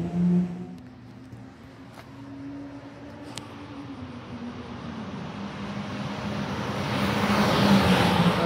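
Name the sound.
Nissan Skyline R33 GTR V-Spec driving by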